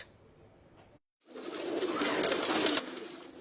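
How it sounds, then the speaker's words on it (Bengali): Pigeons on a farm keeping around 1,300 pairs of native and foreign breeds, their dense cooing and rustling swelling into a loud, continuous flock murmur after a brief silent gap. "এখন খামারে রয়েছে তার অন্তত 1300 জোড়া দেশি ও বিদেশি জাতের কবুতর"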